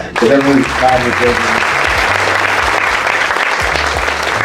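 An audience at a real estate brand talk bursts into steady applause that starts loud and holds evenly throughout, with a voice speaking over it at the start.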